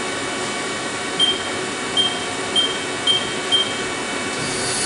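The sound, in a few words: Haas CNC mill measuring tool length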